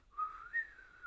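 A person whistles in imitation of a bird, making a short bright rising-and-falling chirp heard close and clear on its own.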